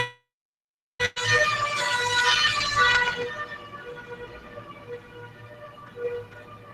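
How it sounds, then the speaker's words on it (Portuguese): After a second of silence, a sharp clang leads into a loud ambulance siren passing outside, wailing tones peaking early and then fading gradually as it moves away. "tem uma ambulância aqui passando."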